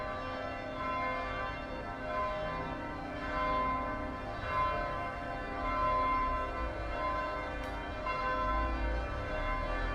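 Church bells ring steadily in Marseille's old Le Panier neighborhood, a sustained, resonant peal of overlapping tones that fill the air at moderate volume, with no voices.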